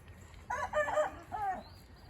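Chickens give a few short, close clucks and squawks in quick bursts, with a faint bird call in the background.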